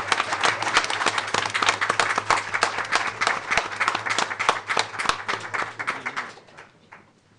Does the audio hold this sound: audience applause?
yes